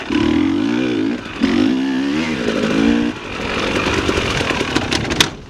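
Dirt bike engine idling and revving in bursts with a buzzy, chainsaw-like note, then cutting out and stalling, leaving quieter rustling and a sharp click near the end.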